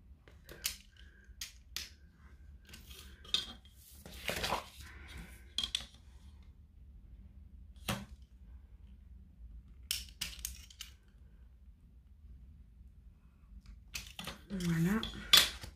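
Scissors cut a paper photo template in short bursts of snipping and rustling, close and fairly quiet, with long silent pauses between the cuts and no one speaking.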